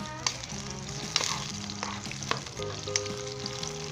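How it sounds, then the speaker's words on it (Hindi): Onions frying and browning in a pan for a chicken heart and gizzard korma, a continuous close sizzle with occasional light scrapes and taps of stirring. "और इसके अंदर हम प्याज डाल के इसे प्याज को ब्राउन करेंगे।"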